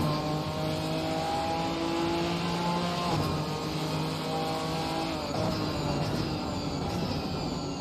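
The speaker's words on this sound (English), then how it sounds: "I'm gonna let you hear the engine." A Ginetta race car's engine revs hard on track at Donington during a British GT race, with a sustained rising and falling engine note, gear changes and throttle lifts, heard steadily with no talk.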